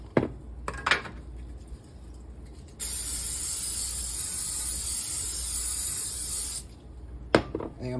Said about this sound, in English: So I'm gonna got my pan over here. I'm gonna spray it.